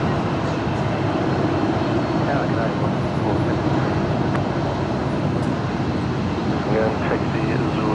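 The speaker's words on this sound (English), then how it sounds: "let's quickly pick up this velocity 737 700 before it rotates" A Virgin Australia Boeing 737-700 takes off at Brisbane Airport at twilight, a loud, steady broadband jet roar heard from a distance that holds constant throughout.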